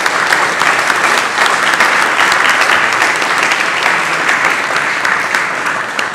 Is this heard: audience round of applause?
yes